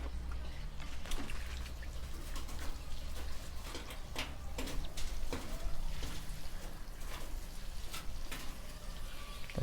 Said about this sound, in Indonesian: Oke, langsung saja kita siram sampai medianya benar-benar basah.